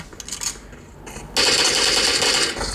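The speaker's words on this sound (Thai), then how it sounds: "โอ้โหยิงกันแล้วยิงกันแล้ว" Gunfire in PUBG Mobile, played on a Samsung Galaxy A34 5G: after a quieter opening with a few scattered shots, a dense, loud burst of rapid automatic fire sets in and runs to the end.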